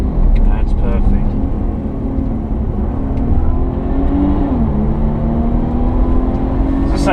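A Jaguar XF with a 360 hp engine revs hard on the Pamplona circuit, a loud, steady, close engine drone whose pitch climbs, dips briefly and climbs again.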